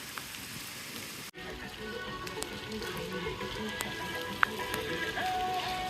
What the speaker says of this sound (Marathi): एकदम जोरात पाऊस चालू आहे